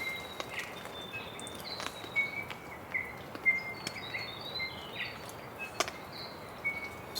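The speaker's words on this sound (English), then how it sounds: "The birds are going." Birds chirp and call intermittently around a sheltered rainy campsite behind a low rock wall, scattered short high notes at moderate distance over a steady wash of wind and rain.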